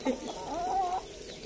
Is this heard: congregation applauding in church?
no